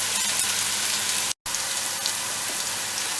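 Onions frying and browning in a pan for a rustic Rajasthani chicken curry give off a loud, close, continuous sizzle like steady rain, with a brief dropout partway through.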